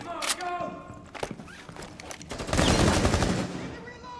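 Gunfire in the video game Rainbow Six Siege: scattered shots early on, then a dense, loud burst of rapid fire in the second half, with a player's voice talking over it.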